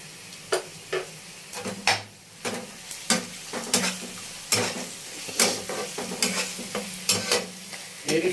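Garlic and spices fry in a pan while a spoon stirs, repeated sharp scrapes and taps against the metal over a continuous sizzle, close up and in an uneven rhythm.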